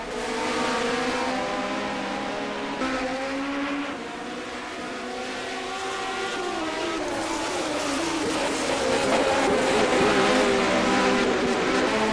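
Formula 1979 Ferrari race cars in rFactor 2 at the Österreichring, Austria, with engines holding a loud, steady high-revving whine whose pitch shifts as they run close together for the whole stretch.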